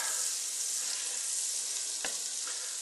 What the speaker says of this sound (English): fire up the frying pan and uh, get these things cooking